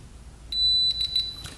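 A multimeter on its continuity setting, testing the coil wires of a dirt bike, gives a sharp, high electronic beep that holds for a moment and is then followed by a few short stuttered beeps.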